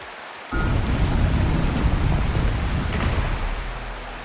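A steady roar of falling water from a waterfall in the video game Wuthering Waves, near a pond, starts abruptly after a brief quiet moment and continues as a loud, even rush.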